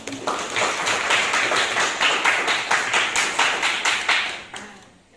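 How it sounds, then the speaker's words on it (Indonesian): Classroom applause from students during a mathematics lesson, a steady patter of many hands clapping close by for about five seconds before trailing off. "tepuk tangan untuk teman-teman yang"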